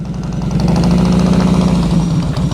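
A motorcycle engine during slow-speed riding practice rises and falls as the throttle opens and eases, loud and close with a throbbing, uneven pulse for a couple of seconds.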